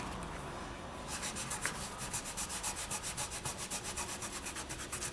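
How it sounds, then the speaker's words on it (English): A polymer clay leaf pendant is rubbed with 400 grit polishing paper, first a soft continuous scuff, then a fast regular back-and-forth rasp, quiet and close with no voices. "For now we want to just give this one a quick sand."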